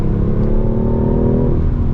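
A BMW i8 Roadster accelerates hard, its engine note a loud, continuous rising drone heard close up from inside the car, with no talking.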